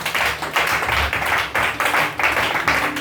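Church congregation clapping in a brisk steady rhythm, loud and close, with cheering voices over the claps.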